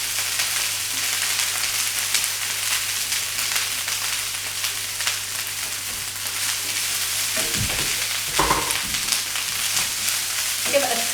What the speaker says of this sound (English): So just pop your rice into the pan.